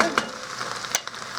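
Cabbage and vegetables sautéing for soup give a brief close sizzle broken by a couple of sharp utensil scrapes and clicks against the pan, with no speech.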